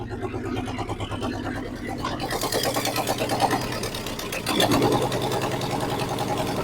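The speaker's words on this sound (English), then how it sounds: "I'm gonna turn the key and See if it fires up and runs for a minute and wants to idle" An old unibody car's engine cranks and catches, then settles into a steady rough idle, running close and loud with a rhythmic mechanical patter that swells briefly partway through.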